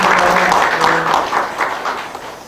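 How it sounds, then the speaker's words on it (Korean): An audience at a policy forum on apartment housing management gives brief applause to welcome a professor before his talk, a short burst of clapping that fades quickly. "여러분 큰 박수로 환영해 주시고요."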